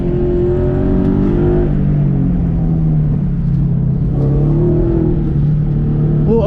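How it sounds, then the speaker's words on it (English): A Scion FR-S sports car's engine drones and revs at an autocross course as it accelerates and drifts, a loud, steady close-up engine note rising and falling in pitch, no voices heard. "Drifting around the corner to the finish line."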